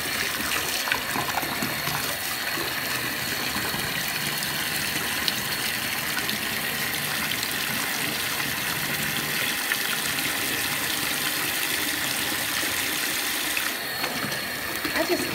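Water sprays steadily into a bathtub, a continuous broadband hiss of running water that holds at an even level throughout, with faint mechanical clicks in the background.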